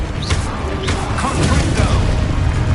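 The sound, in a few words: Descendo slam spell impact in Hogwarts Legacy video game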